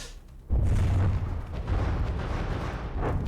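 A turret on manual fire in the naval combat game From the Depths lets out a deep booming blast followed by continued rumbling gunfire and low explosions, loud and close.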